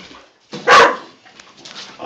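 Clumber spaniel puppies give a short, loud yelp-like bark close by, followed by faint whimpering and small squeaks trailing off, with no voices.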